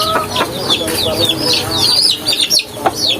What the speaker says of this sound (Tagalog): Papakain natin sa ating mga manok. Oh. Lakas nilang kumain nito.